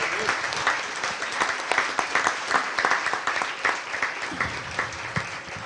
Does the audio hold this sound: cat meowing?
no